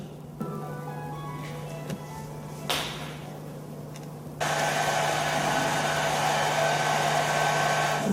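Electric mixer used in paper making for restoring old manuscripts at a library, switching on partway through with a steady loud whirring that continues to the end, a low hum underneath and handling clicks before it starts.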